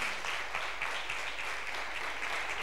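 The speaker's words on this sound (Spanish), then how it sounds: "un aplauso para él" An audience at a science fair closing ceremony applauds a speaker, producing a steady, even wash of many hands clapping together, moderately distant and fairly quiet, with no voices on top.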